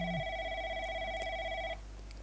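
A phone rings in the video game Replica, a steady electronic tone holding for under two seconds before it cuts off, quiet and clear over a low background hum.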